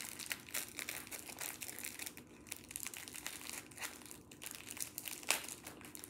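Crinkly makeup packaging being opened, close rustling and crackling of plastic in uneven bursts with a sharper snap near the end, moderately quiet and without talk.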